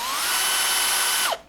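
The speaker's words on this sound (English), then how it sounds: "Now I have the markings and I'll just drill it straight through." A power drill whines steadily at high speed while boring through a plastic fridge handle, loud and close, then spins down abruptly at the end.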